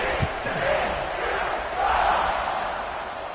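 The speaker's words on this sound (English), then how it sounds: "this crowd is buzzing after that last score" Stadium crowd in an American football video game, a dense, continuous roar of cheering that swells slightly partway through, with commentary voices over it.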